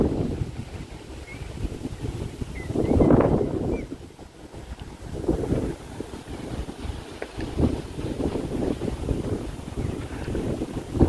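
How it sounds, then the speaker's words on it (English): Gusty wind buffets the microphone outdoors on a breezy, sunny day near a rocky shoreline island in Örnsköldsvik, with low rumbling surges rising and falling, including a strong gust around three seconds, and no speech. "Quite windy today."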